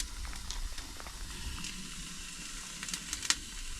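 Burgers sizzle on a Coleman Road Trip 285 propane grill over medium heat, a steady close frying hiss with a few sharper pops and crackles, no voices.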